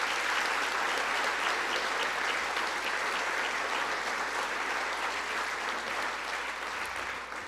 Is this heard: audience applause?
yes